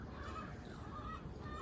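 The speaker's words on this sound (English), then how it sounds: "check out the neighbor's chickens. I can hear them squawking." A neighbor's chickens squawk at a distance, thin honking calls rising above a steady outdoor background rumble.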